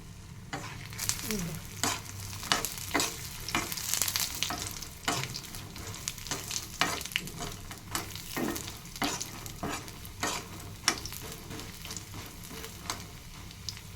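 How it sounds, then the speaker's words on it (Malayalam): Lotus seeds roasting in hot ghee in a pan, a continuous gentle sizzle broken by frequent scraping stirs at an irregular pace, close up and fairly quiet. "നെയ് നന്നായിട്ട് ചൂടായിട്ടുണ്ട് അപ്പോൾ ഇതിലോട്ട് ഇതുപോലെ ഇങ്ങനെ പറക്കിയിടുക"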